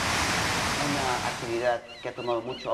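Pacific Ocean surf breaking along a surfing coast makes a loud, steady wash of waves that gradually gives way to a voice talking over the fading roar.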